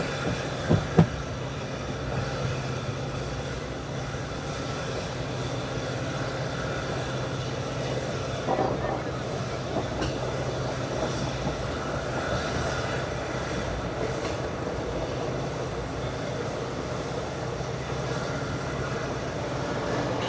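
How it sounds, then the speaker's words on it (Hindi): Passenger train pulling out of Rameswaram station toward the new Pamban Bridge, heard from inside as a steady low rumble and hum of wheels and carriages, constant and moderately loud with a couple of small knocks near the start. "धीरे धीरे अब हमारी ट्रेन एक्सेलरेट करना शुरू कर चुकी है रामेश्वरम से निकलकर टुवर्ड्स पंबन ब्रिज"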